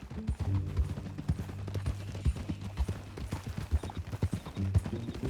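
Steady clip-clop of horse hooves on a ride in Red Dead Redemption 2, a regular plodding rhythm of soft thuds at moderate distance under faint ambient game sound, no voices.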